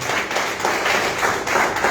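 Audience applause at a live talk in Abidjan, a dense steady patter of many hands clapping together at close range.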